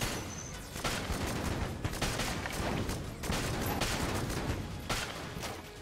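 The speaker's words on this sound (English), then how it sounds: "the strafe gun. It seems like it does explode some bullets on impact" Strafe gun firing in the video game Enter the Gungeon, a dense, continuous burst of rapid gunfire that briefly stops near the start and again near the end.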